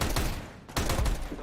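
Flashbang thrown mid in Counter-Strike 2, in a FACEIT match: dense, loud, broadband bursts like rapid gunfire, with a short dip before a sharp renewed blast around the middle.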